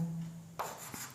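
A marker or chalk writes a chemistry formula on a board during a classroom lesson, with a few short scratchy strokes, close and brief, without speech.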